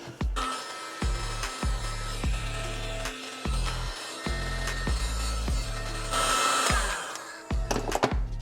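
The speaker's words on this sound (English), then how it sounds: "Heat gun works really well" A heat gun blows steadily at close range, shrinking sealant-lined heat shrink tubing over a wire connection on a boat switch panel. The airflow roars as a continuous hiss, with brief low hums dipping in and out.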